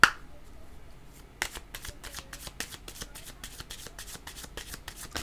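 Tarot cards being shuffled by hand, a quiet run of quick, regular riffling flicks that starts after a short pause and continues steadily with no voices.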